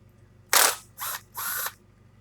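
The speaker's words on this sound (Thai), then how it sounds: "ตอนนี้ผมใช้บล็อกขันบล็อกไฟฟ้านะครับ" Electric impact wrench loosening nuts during a belt service, heard as three short, fairly quiet mechanical bursts, the first sharpest, with brief pauses between.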